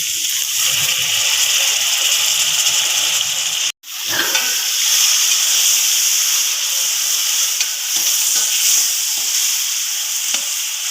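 Tomatoes tipped into a hot pan with ground ginger sizzle in a loud, steady broadband hiss that cuts out briefly partway through, then resumes with faint stirring scrapes.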